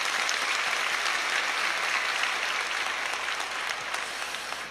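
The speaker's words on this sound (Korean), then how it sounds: "우리 박수로 한번 격려해 주셨으면 좋겠습니다" A church congregation at an early-morning Thanksgiving prayer service applauds a sign language interpreter, dense steady clapping from many hands filling the room and fading slightly at the end.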